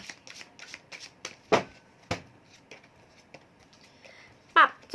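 Tarot cards being shuffled by hand up close, a run of quick papery riffles with a few sharper slaps, and a voice speaking briefly between them.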